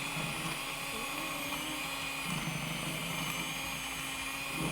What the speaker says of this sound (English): we're starting on low speed with our hand mixer